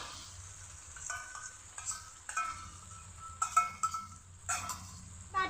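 Fried chicken pieces being stirred and cooked down with spice masala in a pot for dum biryani, bursts of sizzling and spoon scrapes recurring irregularly over a low background hum.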